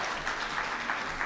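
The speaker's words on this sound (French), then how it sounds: "après des chaleureux applaudissements à l'égard de mes propos" Conference audience clapping after a speech, a dense steady patter of many hands in a hall, fairly loud and continuous throughout.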